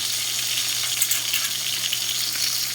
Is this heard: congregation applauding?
no